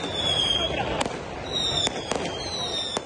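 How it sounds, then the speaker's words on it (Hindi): Fireworks go off at an election victory celebration at a winning candidate's residence in Johar Town, Lahore, with sharp, scattered bangs and whistling streaks under a narrator's voice. "आतिशबाजी का भी मुजाहरा किया गया।"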